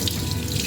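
Ginger being rinsed under a running kitchen tap: a steady, close rush of water splashing into a sink, continuous for under a second with no voices.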